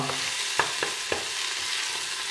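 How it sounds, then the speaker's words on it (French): Onion sweating in oil in a pan, a soft steady sizzle with a few light scrapes and taps of a utensil, brief and moderately close. "faire suinter l'oignon de façon à ce qu'il devienne un petit peu translucide"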